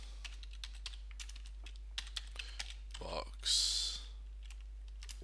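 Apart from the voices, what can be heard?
typing on a computer keyboard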